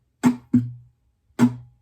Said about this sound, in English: it's just going to be a slap on the guitar right around the sound hole, followed by a muted down strum